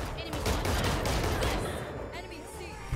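Rapid gunfire crackles through a battle royale video game, loud and sustained for a couple of seconds before easing off, with voices talking over the shots.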